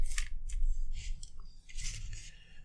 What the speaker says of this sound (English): Okay, so I'm going to snip them right here.